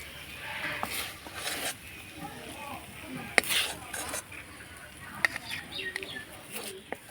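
A spoon scrapes and clinks against a pan while carrot pitha mixture is stirred, then the mixture is moved onto a plate. Light, scattered knocks and a sharper clink or two sit fairly quiet against a soft background.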